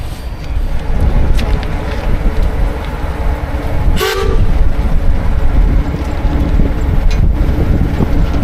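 A Gaar Scott 25-75 steam traction engine, 25 boiler horsepower, runs steadily on a prony brake outdoors, its continuous rumbling mechanical drone broken midway by a brief sharp whistle-like burst.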